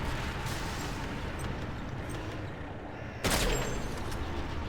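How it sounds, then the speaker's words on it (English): Artillery barrage rumbling through a Stealth vs China match in a real-time strategy game, a dense continuous wash of distant blasts that swells abruptly louder near the end, with no talking. "Artillery comes in."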